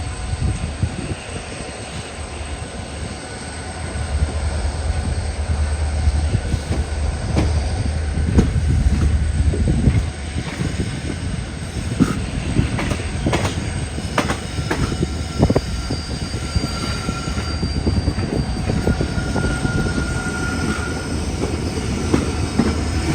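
The Jammu Tavi Express runs on its way from Jodhpur toward Jammu, a continuous loud rumble of wheels on rail with clattering joints and occasional squeals throughout, heard from on board.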